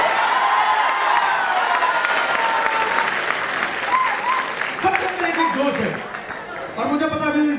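An audience applauding at a comedy show held during a national blind cricket tournament, loud sustained clapping from a big crowd with a voice speaking over it toward the end.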